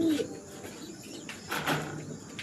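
Silver fantail (lakka) pigeons, a breeding pair, give soft low coos amid faint chirps and light background noise, close and fairly quiet.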